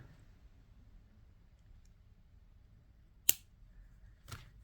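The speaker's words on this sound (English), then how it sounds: "But let's cut the excess off." Wire cutters snip excess wire while a simple crystal necklace is made by hand: one sharp, close click in a quiet room, followed by a softer second click about a second later.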